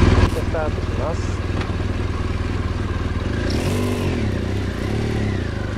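A BMW 1200GS Adventure motorcycle with a full 30-litre tank pulls away from a fuel stop and accelerates, its engine droning loud and steady and rising in pitch toward the end, with brief clatter near the start.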